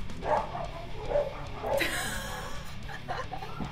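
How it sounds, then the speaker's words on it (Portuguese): Dogs bark in a few scattered, moderately distant yips and woofs over a quiet indoor background, with a brief whimper among them. "Os cachorros, velho."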